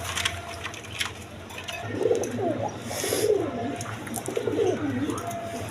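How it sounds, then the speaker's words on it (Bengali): A pair of red Indian Bombai pigeons coo softly and repeatedly through the middle and end, over a steady low background hum. "এখানে এক পেয়ার ইন্ডিয়ান বোম্বাই কবুতর আছে রেড কালারের মধ্যে"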